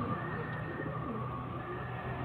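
Pigeons, a pair of Matas birds, cooing softly with low rolling calls over a steady background hum, near and continuous.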